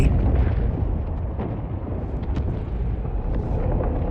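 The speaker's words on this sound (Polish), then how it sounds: "O, fajerwerki na koniec." A dense, continuous barrage of booming fireworks explosions and pops in Star Wars Battlefront 2, loud and rumbling throughout with no pauses between bursts.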